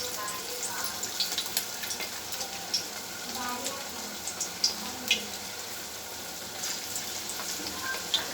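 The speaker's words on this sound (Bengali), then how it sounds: "মাছের ডিমের বড়াগুলো আমি ভেজে নেবো" Fish roe fritters fry in hot oil with a steady sizzle and crackle, with occasional sharper pops and faint scraping.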